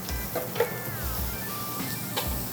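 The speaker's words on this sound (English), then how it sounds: "You can go ahead and add the celery and the onions." Diced celery and onions sizzle steadily in melted butter, a soft continuous frying hiss with faint clicks and scrapes of a utensil.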